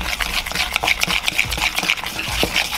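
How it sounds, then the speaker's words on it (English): Dry flour, salt, pepper, baking powder and baking soda are stirred together in a bowl for biscuit dough, giving a close, steady scraping and rustling with soft clinks, without talk. "We're gonna give this a mix."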